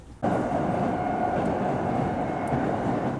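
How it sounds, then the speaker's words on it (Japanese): Steady interior rumble of a Kintetsu train in motion, with a constant low roar and faint rail noise throughout after a brief quiet start; no talking. "この電車には33分ほど乗車します。"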